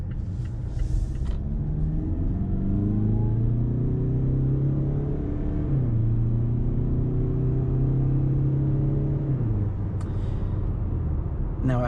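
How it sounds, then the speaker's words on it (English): A non-turbo car accelerates at full throttle, engine note rising steadily as it pulls through the gears, with brief shift dips around the middle and near the end; loud, close in-cabin drone with no talk. "Now I had my foot down all the way on the gas."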